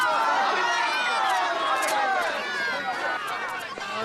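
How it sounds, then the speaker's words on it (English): A large crowd outside the Greenwich Theater in New York's West Village fills the air with dense, overlapping excited voices and chatter, close and loud throughout. "a large crowd is gathered to meet or just catch a glimpse at Captain Avenger"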